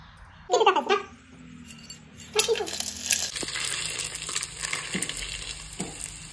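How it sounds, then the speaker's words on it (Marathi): Whole spices hit hot oil for a chicken biryani tempering and settle into a steady close sizzle with occasional light clinks. Brief voices and a laugh come just before it. "पहिले घ्यायचं तेल। घेतला आहे फोडणीसाठी खडा मसाला।"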